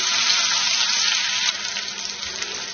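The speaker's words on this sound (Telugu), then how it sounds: "ఇప్పుడు దీనిలో పొడుగ్గా కట్ చేసిన ఉల్లిపాయలు వేసుకుందాం" Long-sliced onions frying in hot oil, a steady bright hiss and sizzle that continues throughout, dropping a little in intensity partway through.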